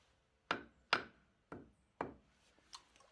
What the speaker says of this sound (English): If they don't slide in easily, then just get your hammer out.